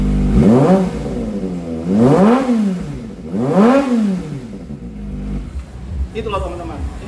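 Kawasaki ZX25R four-cylinder motorcycle fitted with a Yoshimura exhaust, revved hard three times in close, loud sweeping bursts that rise and fall, followed by a shorter blip.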